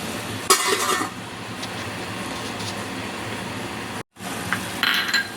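Curry ingredients being stirred and mixed in a pan, a continuous sizzle with scraping bursts of a utensil, briefly cutting out near the end before resuming with light clinks.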